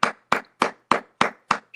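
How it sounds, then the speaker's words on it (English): Hands clap in a crisp, even beat, six sharp claps about a third of a second apart. They are close and clear, with silence between each clap and no talking. "All right, clap it up."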